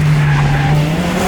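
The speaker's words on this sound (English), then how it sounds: "It would be silly to expect Will to not hit the most ridiculous handbrake turn here." Car pulling a handbrake turn during a race between 1990s hot hatches, a steady loud tyre squeal with engine drone running unbroken for just over a second, no voices.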